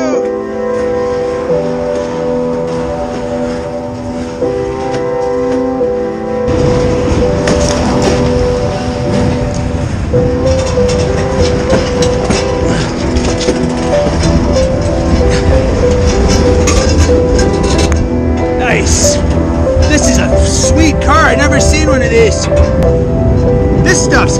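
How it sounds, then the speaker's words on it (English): A freight train rumbles past nearby in Cincinnati, a loud continuous roar with screeching metallic tones, building after a quieter start with humming pitches. "This is like 5 minutes later and another train's coming."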